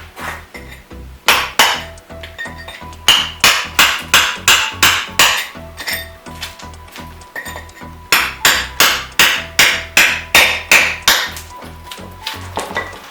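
A hand chisel struck by a hammer chips out a concrete surface for repair, giving rapid, sharp metallic clinks in steady bursts of blows with short pauses between runs, close and loud with no talking.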